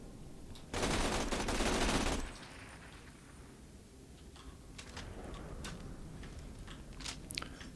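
A rapid-firing spinny gun in the video game Borderlands 2, a dense burst of fire lasting over a second followed by scattered gameplay impacts and clicks, fairly quiet overall.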